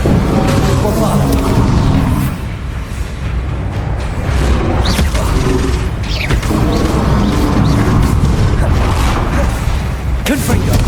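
Bombarda blasting spells detonating during a Hogwarts Legacy fight, producing steady heavy booms and crashing impacts, loud and continuous, with voices mixed in.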